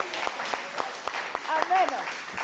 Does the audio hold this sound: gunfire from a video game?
no